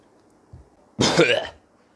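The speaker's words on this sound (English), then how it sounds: "Cough, eh?" A single close cough, short and harsh, preceded by a faint throat sound, alone in a quiet room.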